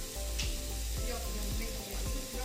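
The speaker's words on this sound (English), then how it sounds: "So it's cooking nicely. The sausage is starting to brown up." Pork sausage fries in a pan with a steady close sizzle, punctuated by several soft scraping stirs at a regular pace.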